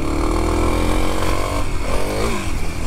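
Kawasaki KLX300 dual sport motorcycle riding in dirt, its engine droning steadily and loudly close by, revving up and easing off in short swells.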